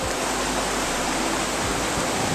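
A wicked, raging river roars with dense, steady broadband rushing close by, loud and unbroken, with no voices over the turbulent flow.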